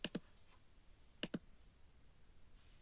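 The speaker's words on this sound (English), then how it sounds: "So that was using the keyboard shortcut." A computer keyboard shortcut is pressed during word-processor macro practice, heard as quiet paired key clicks, two quick taps, then another pair about a second later and a lone click at the end, in a calm room.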